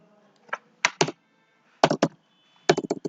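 Sparse keystrokes on a computer keyboard while C code is typed, arriving as short clustered clicks with quiet gaps between groups, close and fairly clear.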